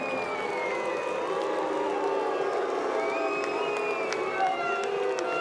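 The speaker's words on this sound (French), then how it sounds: "applaudissements pour la Grande-Bretagne" Spectators at a canoe polo world championship women's semi-final cheer and applaud for Great Britain, a steady crowd roar of clapping and whoops filling the arena with no break.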